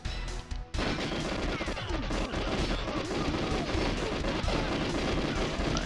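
Sustained gunfire from the GoldenEye video game's Frigate level, dense and continuous for about six seconds, a rapid clatter of shots, crashes and impacts that stays loud throughout with no voice over it.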